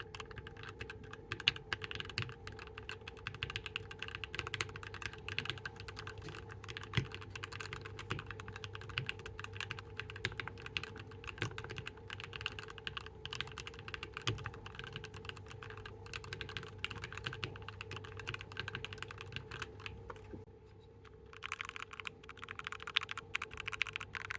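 Steady, continuous typing on a mechanical keyboard fitted with KBDfans GSA Reborn profile keycaps, with dense clacky keystrokes in a fast, even rhythm throughout.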